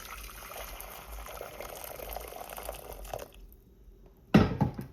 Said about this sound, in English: Some boiling water, so I'm just going to add that to the pot.